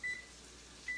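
Short electronic beep from an oven control panel as cancel is pressed, two brief tones at the start and end, alone in a quiet kitchen.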